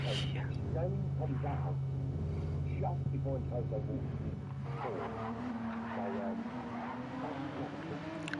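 A damaged Gran Turismo race car with dead tires and a smashed suspension and front bumper limps home, its steady engine drone shifting pitch over a commentator talking throughout.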